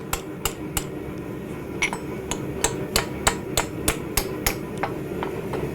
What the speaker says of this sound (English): I'm going to come in here with the chisel and just get a little closer to the bottom of the cup